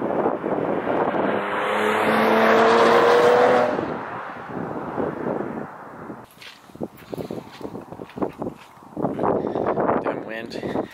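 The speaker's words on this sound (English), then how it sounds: "I want to do like a little bit of a roll by, because I want to actually hear what this thing sounds like, the Saab" A Saab car rolls past outdoors, a loud rushing swell that peaks and fades within a few seconds amid wind noise, followed by a person talking.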